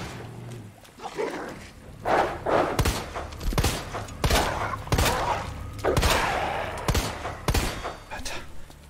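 Gunfire in the video game Resident Evil 2 Remake: a series of loud, sharp shots spaced irregularly with booming tails, fairly close and dominant, with no speech.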